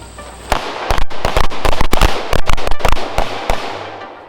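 Carbine gunshots crack in rapid, uneven bursts on a tactical shooting course, a dozen or more loud, sharp reports fired close together from several shooters.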